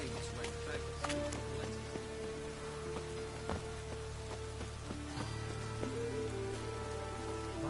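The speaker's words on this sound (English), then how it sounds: "Looks like rain." Steady rainfall in The Witcher 3 on PS4 hisses continuously under a constant low game ambience, with occasional brief clicks and tones over the top.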